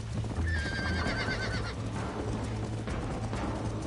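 A horse in the video game Red Dead Redemption gives a loud whinny early on, followed by steady clip-clop of hooves over a continuous mix of game sound.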